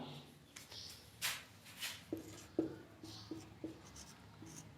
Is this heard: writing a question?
yes